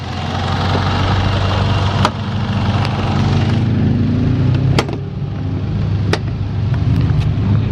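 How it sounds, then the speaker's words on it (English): Car engine idling steadily at a racetrack, a loud continuous low rumble close by, with a few sharp clicks and knocks over the top and no talking. "So I'm gonna start up the car, close the hood, get it ready."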